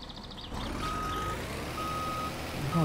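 Truck in the video game My Summer Car reversing, a steady engine drone under a series of evenly spaced high electronic reversing beeps, fairly close and clear.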